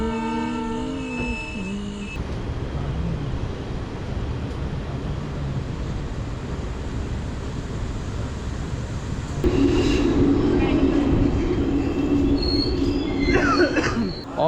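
The Durg Ambikapur Express rolls into Usalapur railway station, its wheels squealing against the rails over a steady rumble. A high sustained screech rises louder in the second half as the train brakes.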